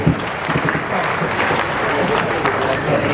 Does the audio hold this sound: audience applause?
yes